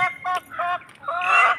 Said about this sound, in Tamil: முட்டை விட்டோன்னே இப்படி தான் கத்தும் கோழி.